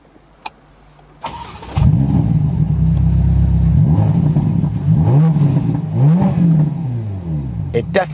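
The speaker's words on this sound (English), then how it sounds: "The engine start stop button is actually a touch thing now. So should we push it?" A Ferrari Roma engine cranks and catches with a sharp start, then settles into a loud idle with several rising revs, close by.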